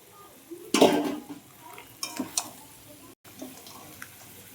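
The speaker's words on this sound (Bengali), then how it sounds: "এইবারে আমি কাঁকড়াটা আলুটা দিয়ে সুন্দর করে কষিয়ে নেব" Crab and potatoes dropped into spiced oil to sauté, starting with a loud close burst of sizzling and clatter, then softer stirring knocks and scrapes against the pan.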